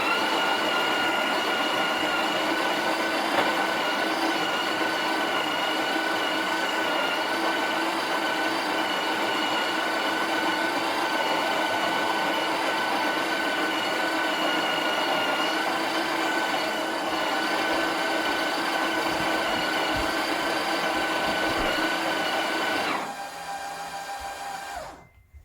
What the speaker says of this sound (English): And let's grind. Grind size number 30.